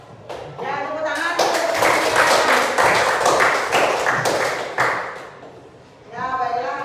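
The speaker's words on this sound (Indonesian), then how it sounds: "Ya, tepuk tangan." Classroom of students clapping together after a group presentation, a dense steady burst of many hands lasting several seconds, with a voice speaking briefly before and after.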